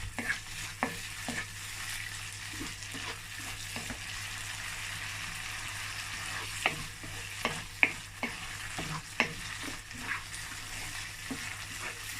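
Tomato paste mixture stirred in a frying pan, a steady sizzle running throughout with repeated scraping knocks of the spoon at an irregular rhythm, close and moderately loud, no voices.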